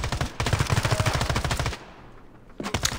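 Rapid bursts of gunfire from the Standoff 2 mobile shooter game, a dense run of close, loud shots for nearly two seconds, then a brief lull before another short burst.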